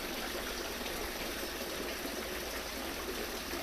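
Water poured through a regular fish net while making goldfish fry food, a steady, close rushing stream that runs unbroken throughout with no talking.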